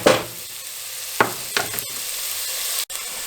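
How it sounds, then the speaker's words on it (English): Onions with garlic powder sizzle steadily in a frying pan for baked ziti, with a few sharp scrapes from a stirring utensil; no voices. "And we are going to stir that around for just a little bit."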